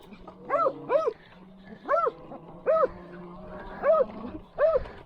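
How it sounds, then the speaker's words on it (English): An excited farm dog barks repeatedly nearby, single and doubled barks spaced irregularly over a low background hum. "sorry about the barking dog"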